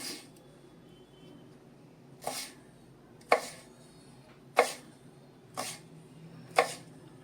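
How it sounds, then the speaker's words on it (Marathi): Mild green chili chopped finely with a knife on a board, five separate crisp chops spaced about a second apart over a quiet kitchen background. "ही एक मिरची आपण घेतली आहे हिचे आपल्याला बारीक तुकडे करायचे आहेत"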